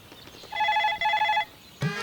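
A telephone rings in two short electronic bursts with a brief gap between them, fairly close and clear over quiet room tone, followed by a quick clatter.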